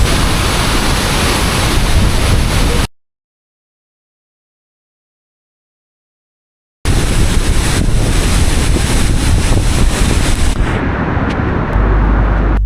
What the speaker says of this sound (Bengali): চারপাশে শুধু বৃষ্টি আর ঝর্নার গর্জন